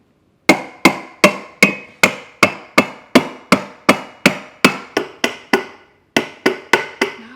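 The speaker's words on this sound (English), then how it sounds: "I think I'm gonna need a hammer for this." Hammer blows on a seat part during assembly of a folding full-suspension recumbent e-trike, about eighteen sharp, evenly spaced strikes ringing close and loud, with a short pause before a final run of hits.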